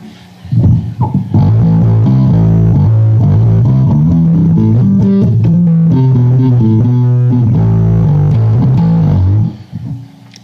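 A bass guitar through a Metal Muff distortion pedal plays a heavy, gritty riff of sustained low notes, loud and close, then cuts off abruptly.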